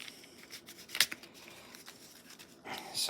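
Cards being pulled from a fantasy board game deck, several soft papery slides and flicks close by, with a sharper snap near the middle and a rustle at the end, no speech.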